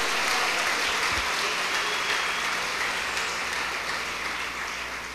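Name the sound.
church congregation applause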